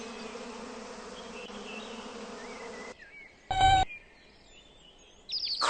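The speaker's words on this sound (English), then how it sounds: "Bees and other insects come out too." Bees and other insects buzz steadily in a spring outdoor setting, a continuous drone for about three seconds, then quieter with a short loud burst and faint bird calls toward the end.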